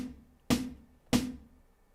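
Two crisp snare hits from the preset 808 kit on an electronic drum set ring out about half a second apart, each a sharp snap with a short tonal tail, fairly quiet and alone.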